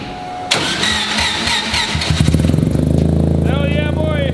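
A Mazda 650cc single-rotor engine cranks and fires up on a dyno, catching into a loud, rapid, pulsing idle that settles into a steady buzzing drone while a voice talks over it.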